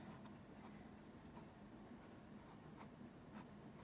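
Pen strokes scratching across paper while writing lyrics by hand, a quiet close scraping with a few brighter bursts over steady low room hiss, no talk.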